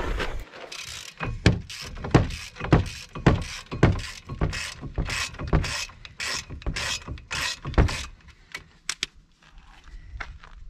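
A rubber-handled ratchet wrench works on the brake caliper of a Citroen C5, clicking in a rapid run of sharp, regular ratcheting bursts close by, which slow and thin out toward the end.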